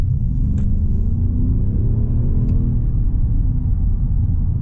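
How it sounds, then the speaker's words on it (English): An Audi SQ7 with a V8 diesel engine while driving, heard from inside the cabin as a steady low rumble with a faint rising engine tone, no talk. "it's just a quiet diesel, a quiet V8 diesel"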